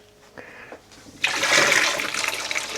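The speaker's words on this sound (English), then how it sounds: "The potato is already done, so I'm going to remove the water." Water from a pot of boiled potatoes pours out in a sudden rushing gush, loud and splashy after a couple of faint clinks, continuing steadily to the end.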